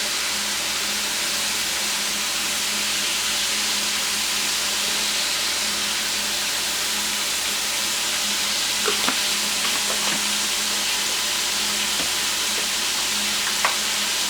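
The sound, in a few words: 80-20 ground beef frying in a pan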